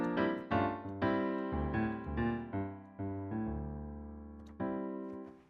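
Piano planing through parallel second-inversion triads in G Dorian: a chain of about nine sustained block chords, each struck firmly and ringing briefly before the next, played alone with no voices.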